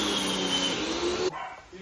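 A dog on a Brazilian farm barks in a close, loud burst that cuts off abruptly, followed by quieter rustling.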